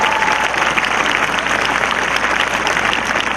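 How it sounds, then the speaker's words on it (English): Steady, loud applause from a large crowd at a high school graduation, dense clapping filling the whole stretch with a few faint voices mixed in. "Can we get a round of applause for our parents and loved ones"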